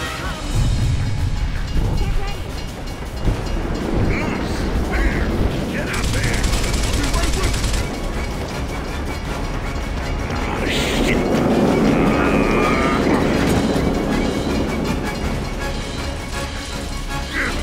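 A moving train rumbles and clatters in Gears of War, with loud mechanical rattling and bursts of gunfire layered over a continuous low roar, and voices speaking over it.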